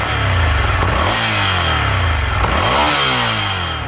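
Ducati Scrambler motorcycle on its stock exhaust, engine revving up and down twice close by, loud and steady with rising and falling pitch and no talking.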